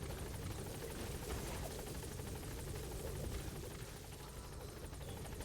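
Helicopter in Metal Gear Solid V, its rotor thudding steadily with an engine drone, loud and constant throughout, no speech over it.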